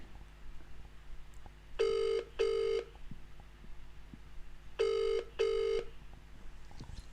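Phone ringback tone on a call that goes to EE voicemail: two paired bursts of ringing, each a double ring, spaced about three seconds apart over a quiet background with no talk.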